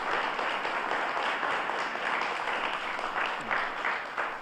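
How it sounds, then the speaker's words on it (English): An audience at a police academy graduation claps for the graduates, a sustained, fairly soft wash of many hands clapping at a steady level throughout. "please give them a round of applause"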